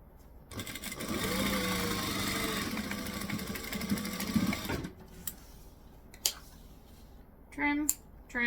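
Sewing machine stitching and back stitching a utility belt, one continuous burst of rapid mechanical stitching for several seconds, then quiet handling noises and brief talking.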